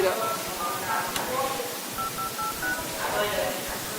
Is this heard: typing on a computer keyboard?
no